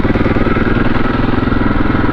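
A 2002 KTM 640 enduro's single-cylinder thumper engine idles close by, a loud steady pulsing chug with an even, rapid beat and no talking.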